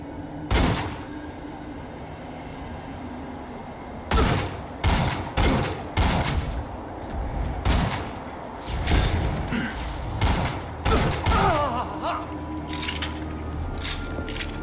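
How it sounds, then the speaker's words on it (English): Enemies fire flaming projectiles in Tiny Tina's Assault on Dragon Keep, a run of loud, sharp blasts and thuds that come singly and in bursts over a steady low game hum. "Someone's shooting flaming stuff at us."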